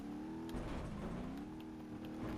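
The RG Vortexx buggy's engine in BeamNG.Drive drones loudly and steadily, its pitch sliding up and down as it revs while racing over rough terrain, with small knocks and bumps.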